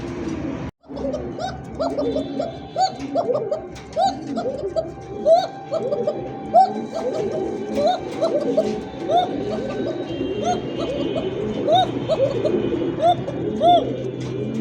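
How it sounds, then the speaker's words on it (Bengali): Domestic pigeons cooing close by, a steady run of repeated throaty coos with some soft chirps and a faint background hum, one brief dropout early on. "সব কবুতরে কিন্তু এই ডাকটা হয় না ভাই"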